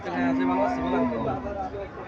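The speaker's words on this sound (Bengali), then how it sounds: "এখানে একটা গাভী দেখা যাচ্ছে" A dairy cow of Jersey-Friesian type lows with one long drawn-out moo at a Chandimura cattle market in Cumilla, with faint market chatter around it.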